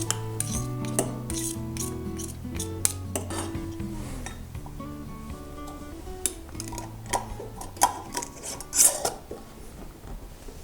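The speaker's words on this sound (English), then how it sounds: "just stir it, make it mix well with the powders." A utensil stirs turmeric powder into oil inside a container, giving repeated clinks, scrapes and ringing metallic knocks that keep an uneven rhythm, with a louder cluster of taps near the end.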